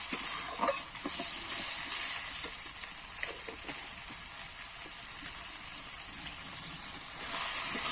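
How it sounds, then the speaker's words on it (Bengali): A spice masala sautés with a little water in a pan, giving a steady hissing sizzle with occasional stirring taps and scrapes, close and fairly soft, with no one speaking. "এখানে একটু মশলাতে জল দিয়ে দেব দিয়ে কিন্তু মশলাটা আমি ভালো করে কষিয়ে নেব যতক্ষণ না তেল ছাড়বে"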